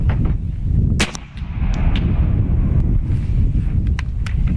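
A single sharp crack comes from a .50 caliber big bore PCP air rifle fired outdoors. It stands out briefly over constant heavy wind buffeting the microphone.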